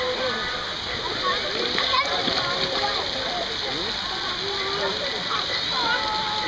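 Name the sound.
child splashing water while practicing swimming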